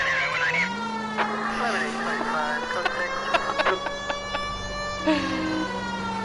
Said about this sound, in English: that siren is really loud